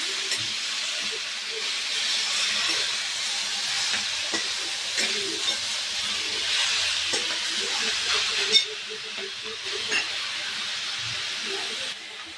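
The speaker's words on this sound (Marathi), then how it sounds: "हळद टाकली की भाजी टाकून द्यायची लगेच। भाजी हलवून घ्यायची चांगली।" Fenugreek leaves with turmeric fry in a pan for a dry Marathi-style vegetable dish, a steady close sizzle and hiss broken by occasional scrapes and clinks of the stirring spoon.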